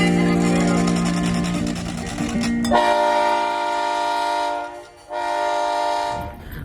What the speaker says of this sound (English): The train's nearly ready to go.